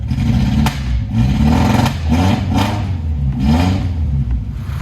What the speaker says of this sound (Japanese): もう今エンジンがねまだ冷えてるのにアイドリングするようになりました